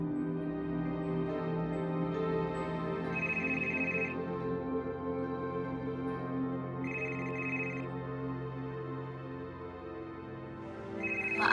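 A telephone ringtone plays quietly and steadily, a melodic electronic pattern with a higher chime phrase repeating three times at even intervals, announcing a call from a neighbour indoors.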